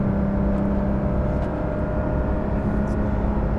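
Porsche 992 GT3 Touring on a morning drive, its engine a steady, constant drone with a low hum from inside the cabin and no clear revving peaks.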